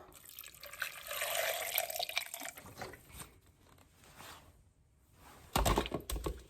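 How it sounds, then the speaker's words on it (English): Water splashes and trickles into a blender cup holding ginger in a few short pours, close and fairly soft, with a brief louder burst near the end. "I'm going to add a little water."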